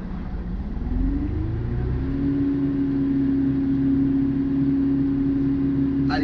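A tractor-mounted mulcher runs along a vineyard row, a steady loud engine and rotor drone that climbs in pitch as it spins up and then holds a constant whine.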